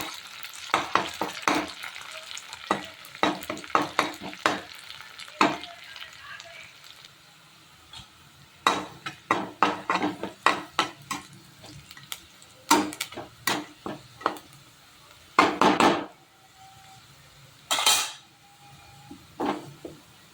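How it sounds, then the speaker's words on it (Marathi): Curry leaves crackle and sizzle in hot oil with onions for poha, a Maharashtrian breakfast dish, in bursts of sharp spitting pops over a steady frying hiss, close up; someone speaks now and then. "कडीपत्ता टाकून घेते म्हणजे कडीपत्त्याला चांगला तडका लागेल फ्राय होईल कांद्यामध्ये"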